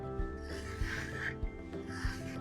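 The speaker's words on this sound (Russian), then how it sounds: "Нанесла шпаклевку на небольшой участок, берем кельму и приглаживаем" A trowel smooths decorative putty across a wall in short rubbing, rasping strokes with soft periodic thumps, set against a steady tonal background hum.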